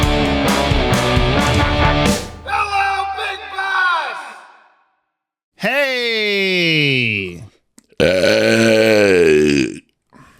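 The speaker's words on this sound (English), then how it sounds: "You don't get to just purposely burp first thing you say." A long, loud, deliberate burp opens, followed by further drawn-out belching and groaning vocal sounds with short silent gaps between them.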